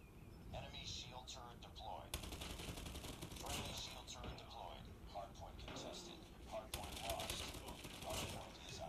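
Rapid bursts of gunfire from the Call of Duty video game rattle continuously at low volume, mixed with excited voices talking over the shooting.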